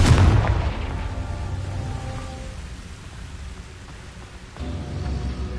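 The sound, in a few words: Confringo blasting spell explosion in Hogwarts Legacy video game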